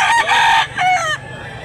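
A rooster at a busy rooster market in Mantalungon, Barili, Cebu crows loudly and close, one drawn-out call broken into rising and falling segments, then fading into quieter background.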